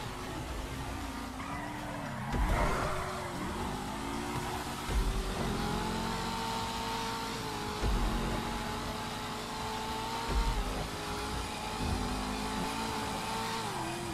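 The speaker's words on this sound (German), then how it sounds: "hier fährt ein Auto in mich rein" Cars race in GTA 5 Online with a constant engine drone, revving pitch swells and a few sharp tire skids and impact bursts spread across the stretch, with no talking.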